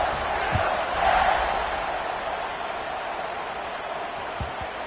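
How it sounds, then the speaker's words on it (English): A stadium crowd at a Utah vs. Baylor college football game roars in a steady, dense wash of cheering and noise during a kickoff, continuous throughout and swelling slightly near the start. "this crowd is feeling themselves after that last drive"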